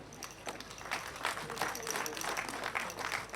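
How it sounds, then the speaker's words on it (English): Applause from the audience at Erelu Abiola's 50th-year celebration, a dense, steady patter of many hands running through the whole stretch at moderate level, with a voice faintly mixed underneath. "let's give her a better round of applause as she makes her way to her seat"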